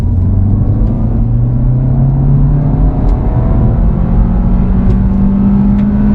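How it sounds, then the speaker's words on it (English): A 2016 Audi A3 e-tron plug-in hybrid pulls onto a road and accelerates, a steady close rumble of engine and road noise rising gradually in pitch over several seconds. "So now actually going onto a road and accelerating."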